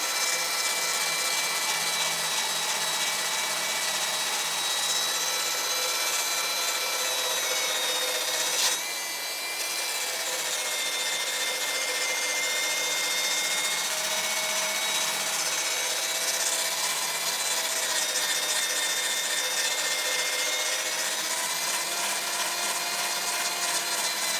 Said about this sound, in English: Just very carefully apply the drill to the edge.